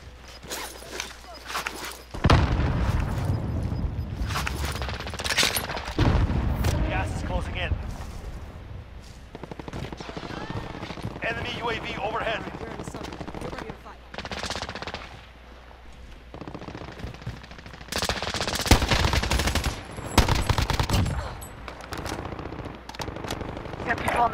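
Bursts of automatic gunfire and single shots from a battle-royale style shooter game, loud and repeated in clusters throughout, with players talking over the shooting.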